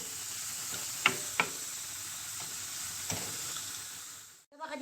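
Chicken pieces sizzle steadily while being sautéed in a pan, a constant frying hiss with a few sharp clicks from stirring and a brief break near the end.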